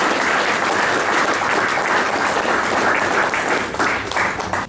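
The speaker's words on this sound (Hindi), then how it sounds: "आप सब तालियों के साथ इनका सम्मान करें।" Sustained applause from an audience at the book launch of Yashvardhan's The Gods of Antarctica, with dense steady clapping filling the room for several seconds and no speech over it.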